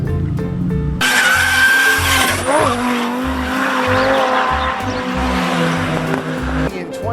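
A rally car engine roars with a rising whine and tire squeal, loud and close, amid broadcast-style commentary and crowd noise throughout.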